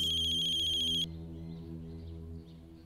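A phone rings with a sharp electronic tone for about a second, then cuts off, leaving a low steady hum.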